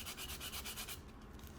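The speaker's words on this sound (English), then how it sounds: "carefully rub the sandpaper over those areas of the rudder where I've got that little bit of extra" Sandpaper rubbed in quick strokes over the primed, painted rudder of a small RC model plane, a soft rhythmic scratching for about a second, then quieter.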